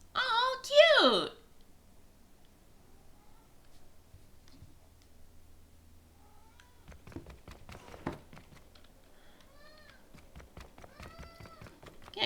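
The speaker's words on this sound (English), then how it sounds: "that's my cat meowing." A cat gives a single clear, fairly loud meow near the start, then things go quiet before soft clicks and faint murmuring voices take over.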